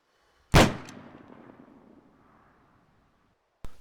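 A single booming sniper rifle shot from the TFA video game rings out close and loud, then fades in a long rolling echo, with a sharp click at the end and no speech.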